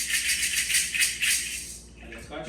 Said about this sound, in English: We have our rattles,